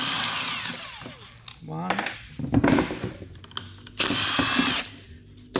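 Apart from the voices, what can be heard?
power tool removing two 12 millimeter bolts on Toyota Sienna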